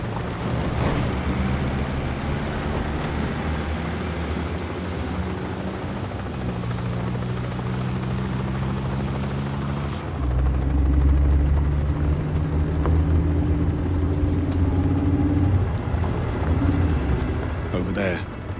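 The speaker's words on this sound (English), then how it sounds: "Bavma's heli is inbound." A helicopter closes in during a scene from the game 007 First Light, its rotor thump and engine drone steady and loud across the whole stretch, growing heavier partway through, with voices talking over it.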